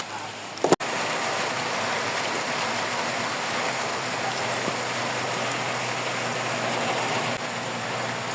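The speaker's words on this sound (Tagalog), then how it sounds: "Ayan, lumalakas na yung ulan." Heavy rain pours steadily and densely on a plot of land with moringa trees, a constant close hiss that starts abruptly after a brief knock and holds loud throughout.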